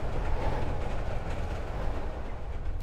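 Train rolling past in the horror video game Layers of Fear: Inheritance, a loud, steady rumbling rush of rail noise that holds throughout and ends in a brief sharp burst.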